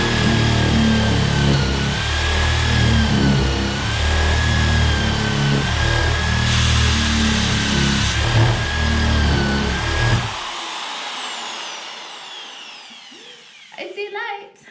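An electric drill strains to bore its bit into green, wet wood boards during cabin electrical prep work, giving a steady, loud motor whine for about ten seconds before cutting off, followed by a few faint knocks.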